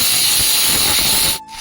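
Finely chopped onions frying in hot oil give a loud, dense hiss and sizzle close by, continuous for over a second before cutting off suddenly.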